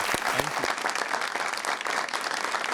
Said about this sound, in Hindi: थैंक यू सर, तालियां।